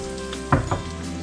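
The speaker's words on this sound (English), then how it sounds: "Since I'm using such a small pan, I'm probably only going to fry 2 at a time." Oreos deep frying two at a time in oil in a small pan: a brief burst of bubbling sizzle, then a second smaller one, over a steady low hum.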